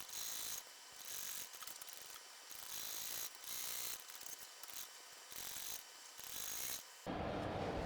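A sewing machine stitches a seam on a fabric bag, running in several quick mechanical bursts separated by short pauses, with a steadier whirring run near the end; no one talks.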